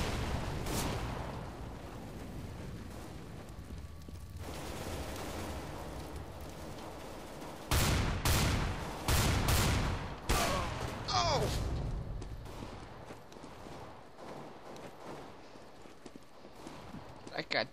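Rapid bursts of gunfire crack out in the shooter game CS:GO, a dense loud cluster of shots in the middle after quieter footsteps, with players chatting throughout.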